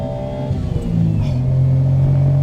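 Mazdaspeed Autozam AZ-1 kei sports car taking a corner, its small engine giving a loud, steady drone that rises in pitch and builds as the car pushes through, with no voices.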